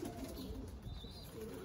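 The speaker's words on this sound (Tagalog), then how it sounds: "Dami na mga kalapatids." Pigeons coo softly in a loft in Texas, low murmuring calls blending into a quiet, steady background hum with a faint higher chirp in the middle.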